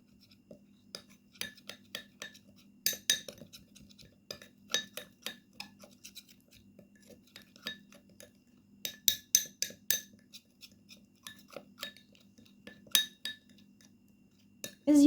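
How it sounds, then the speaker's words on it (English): A spoon stirs a coffee and lemon paste in a glass, giving quick bursts of bright clinks and taps against the sides, with short pauses between rounds of mixing. "Now we need to mix well and combine all the ingredients together."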